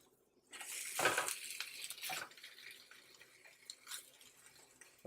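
A hot turkey and Swiss sandwich flipped in a pan, giving a soft metallic scrape and clatter of utensil against the pan followed by a quieter sizzle that fades, with no voices.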